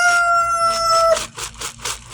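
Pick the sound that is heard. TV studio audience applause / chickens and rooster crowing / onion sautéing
chickens and rooster crowing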